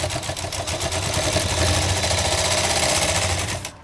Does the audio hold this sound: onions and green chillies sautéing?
no